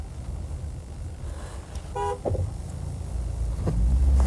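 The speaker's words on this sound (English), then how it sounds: "we're just hooting some people" A car horn sounds a short honk around two seconds in, followed by a second brief toot, over steady engine rumble and road noise from inside a moving car in Derbyshire's Peak District in 1989.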